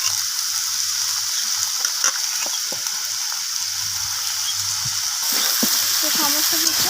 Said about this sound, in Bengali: তো সমস্ত কিছু আবার নাড়াচাড়া করে এইভাবে ভেজে নিচ্ছি।